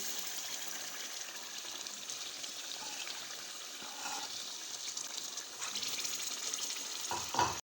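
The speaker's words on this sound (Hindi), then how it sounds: "थोड़ा सा पानी डाल के हमने चिकन को अच्छी तरह से भून लिया है। अब ये पालक इसमें डालेंगे।" Chicken and spinach sizzle and fry steadily in a pan, a continuous crackling hiss with a few stirring scrapes near the end, close and alone without talk.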